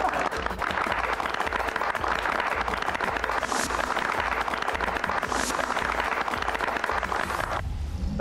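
A crowd of villagers claps steadily and densely throughout, with a continuous roar of applause that does not let up.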